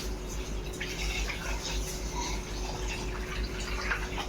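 Rice being washed in water for a mutton biryani, a soft close sloshing and trickling of water that runs steadily with no talk.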